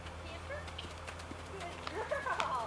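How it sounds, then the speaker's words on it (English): A horse breaks into a big, leaping canter from a calm walk, giving soft rhythmic hoof clip-clops with some rustling, mostly quiet, and the effort picks up toward the end. "Big crazy canter, but she does it."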